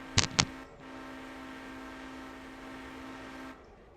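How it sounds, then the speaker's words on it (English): In a train simulator video game, two sharp clicks are followed by a long, steady horn tone from the locomotive, held for roughly three seconds before cutting off. "if you hold down Shift, the horn gets louder."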